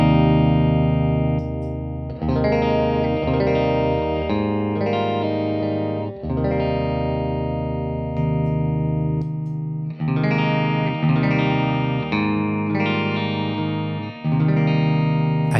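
Electric guitar fed through an NRG Effects FORKER signal splitter, chords ringing with effects as individual outputs are switched on and off, producing abrupt drops and returns in level every couple of seconds, loud and alone.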